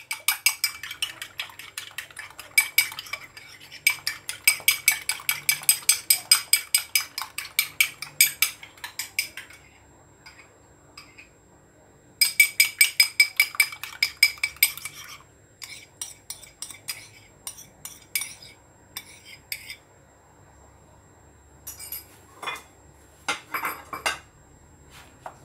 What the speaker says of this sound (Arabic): حبة بيض ضربها